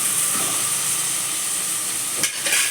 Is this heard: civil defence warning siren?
no